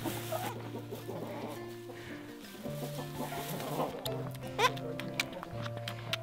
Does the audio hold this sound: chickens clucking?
yes